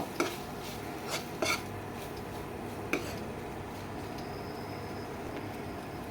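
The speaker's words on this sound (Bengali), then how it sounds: "ভালো করে আমি নেড়ে চেড়ে নেব" Spicy Chinese-style pasta with cheese being stirred in a pan, a few sharp clinks of utensil against metal over a steady low hiss, fairly quiet and without talk.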